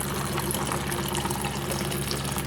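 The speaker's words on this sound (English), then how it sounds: "I need a little bit more water." Tap water pours steadily into a pot of cooking noodles, a continuous close splashing rush that keeps an even level with no speech.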